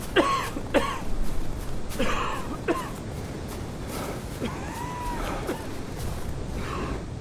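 A character in the survival game Expedition Zero coughs in several harsh, separate bursts spread across the stretch, with throat clearing and breathy gasps between them, fairly close and with no talk.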